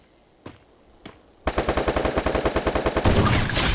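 Rapid automatic gunfire from the video game Free Fire: two isolated shots, then a loud sustained burst of evenly spaced rounds that grows denser and louder toward the end.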